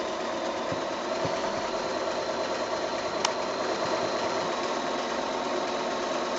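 Domestic sewing machine set up for free-motion quilting, stitching across a quilt piece from its edge with a steady, continuous mechanical hum and faint repetitive ticks, close and moderately quiet, with no talking.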